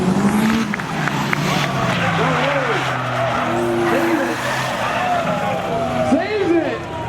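A Camaro drag racing at a spectator drag event, engines roaring loudly and continuously with tire squeals and skids, a crowd voice talking over the racing.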